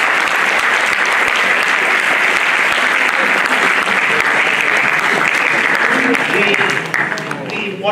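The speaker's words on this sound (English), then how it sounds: "So can we start by giving him a big round of applause" An audience applauds at a Peter F. Drucker lecture, giving a loud, dense, sustained round of clapping from many hands that fades slightly near the end.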